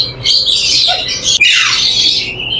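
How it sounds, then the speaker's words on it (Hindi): Plum-headed parakeets in a bird shop give loud, harsh squawks and shrill calls, overlapping and continuous throughout, close by with dense chatter and no talk. "प्लम हेड, नेपाली, सुर्खे, लाल सिरे, ये तमाम नाम है इस तोते के, इस परिंदे के।"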